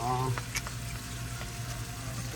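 A pan of Brussels sprouts sizzles steadily on the stove, a soft, even frying hiss that runs through the whole moment with faint kitchen clatter.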